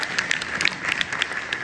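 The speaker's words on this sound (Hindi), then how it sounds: "इन सभी के लिए एक बार जोरदार ताली बनाएं।" A crowd claps steadily for schoolchildren at a CM Rise school event in Narwar, a dense patter of many hands with no voices over it.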